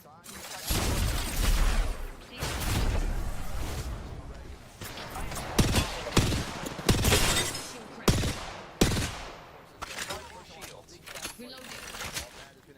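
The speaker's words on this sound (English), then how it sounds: "Getting shot at. Firing." Bursts of video game gunfire and impacts, some shots loud and close, others scattered, with a voice talking over part of the action.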